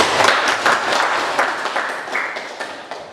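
A class applauds after a student presentation in an Indonesian classroom lesson on politics, with steady dense clapping over about three seconds that slowly fades.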